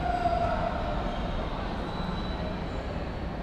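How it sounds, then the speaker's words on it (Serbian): Ambience of a large main railway station in Germany while waiting for a train: a steady broad rumble of rail noise and station hubbub, with a brief tonal squeal early on and faint voices in the background. "Evo me na železničkoj stanici."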